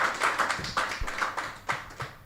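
At a scholarship breakfast, a modest audience gives a short round of applause with scattered, distinct claps pulsing irregularly at moderate volume, without speech.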